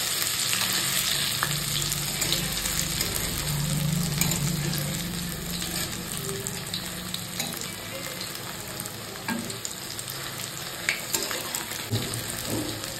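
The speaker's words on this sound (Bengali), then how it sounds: "বেশ লাল লাল মতো করে ভাজাটা হয়েছে" Food browning in hot oil in a home kitchen pan sizzles steadily and close up, with a continuous crackling hiss and occasional scraping as pieces are turned.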